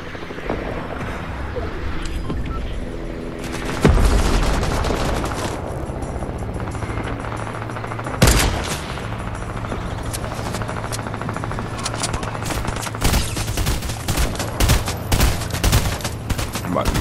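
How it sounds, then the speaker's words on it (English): Gunfire bursts and a helicopter in a Fortnite match, with volleys of shots and two heavy booms near the 4 and 8 second marks over a constant rotor-like drone, with dense rapid firing toward the end. "We got the chopper now."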